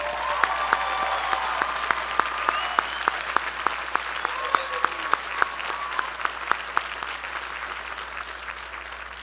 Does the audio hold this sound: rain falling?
no